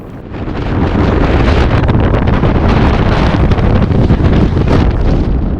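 Strong, steady mountain wind roars without letup on Śnieżka, buffeting the microphone with a loud rushing din that fills the whole clip.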